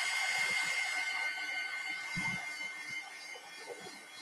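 A hair dryer blowing on an art painting gives a steady, close whooshing hiss with a faint whine, broken by a few soft low thumps.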